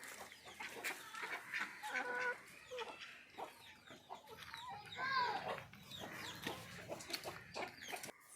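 Chickens cluck and call close by in a yard, a busy overlapping chorus of clucks and squawks with some light rustling.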